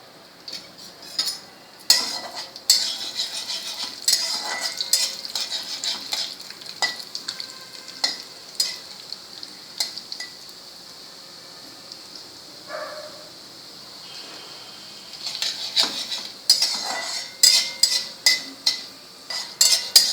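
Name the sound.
frying urad dal in hot oil, stirring in pan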